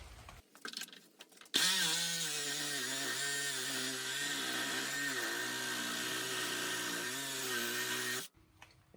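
A power tool cuts through the plastic union fitting on a Pentair pool filter bulkhead, one steady loud whine lasting about seven seconds before stopping abruptly.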